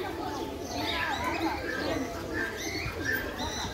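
Pigeons coo softly in low, throaty murmurs while people talk nearby.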